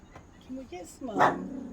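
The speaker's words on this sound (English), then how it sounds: "No barking." A dog barks and yips nearby, a short burst of a few sharp barks over quieter background, with a voice speaking around it.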